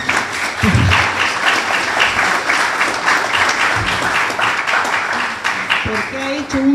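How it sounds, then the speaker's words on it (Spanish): Applause from an audience at a book presentation in a hall, a steady dense wash of clapping lasting throughout, with a voice speaking over it near the end. "le vamos a brindar un aplauso"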